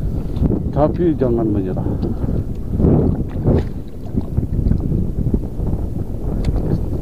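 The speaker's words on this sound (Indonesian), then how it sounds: "angin-anginnya datang dari sana terus berembus ya, agak terganggu juga sih" Wind buffets the microphone at an outdoor fishing spot as a low, gusty rumble, continuous and fairly loud, with someone talking over it throughout.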